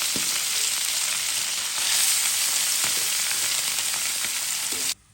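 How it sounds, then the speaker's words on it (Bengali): Fried small tilapia goes into a hot pan of oil, setting off a loud, steady sizzle that holds for several seconds and then cuts off abruptly, with no voices. "মাছ ভাজাটা দিয়ে দিলাম।"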